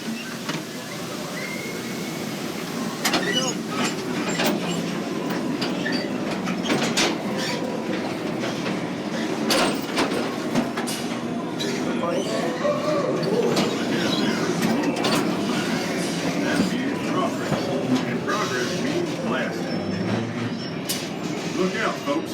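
A mine train rolling over a wooden trestle bridge at an old mountain mine, a steady rumble of wheels with a dense run of rhythmic clicks and clacks, continuous and close, with people talking over it.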